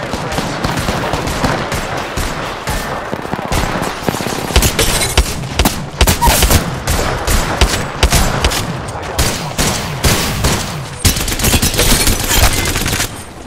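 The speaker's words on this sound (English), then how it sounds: "I am taking fire, friends." Heavy gunfire in the video game Apex Legends: loud, rapid automatic bursts and single shots crackle almost without a break, stacked densely and close.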